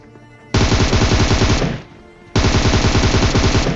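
Automatic gunfire from the PUBG Mobile video game arrives as two loud, sustained bursts of rapid shots, separated by a brief lull.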